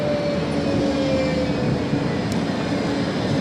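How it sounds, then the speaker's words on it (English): A Blackpool tram pulls in, a steady rumbling rolling noise with a faint high steel squeal, loud and close with no speech. "Here comes the tram now, that's just arriving."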